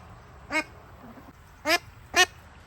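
Cayuga and Indian runner ducks give three short, nasal quacks, one and then a close pair, clear and fairly near over a quiet background.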